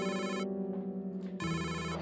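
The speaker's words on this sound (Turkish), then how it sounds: "telefonun çalıyor. Alarmdır o." A phone alarm ringing loudly and close, a bright repeating electronic ringtone that breaks off briefly in the middle and then resumes, with no talking.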